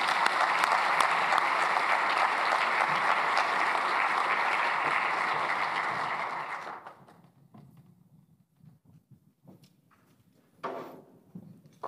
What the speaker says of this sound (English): would ask all of you to welcome him with a round of applause.